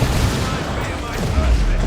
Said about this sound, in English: Plasma cannon winding up and firing upon the Plague Champion there with that knockback and big chunk of damage.